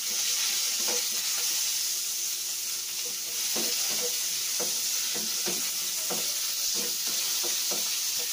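Onion sautéing with browned garlic in a hot pan, a continuous bright sizzle broken by regular scraping strokes of a spatula, close up, with no talking.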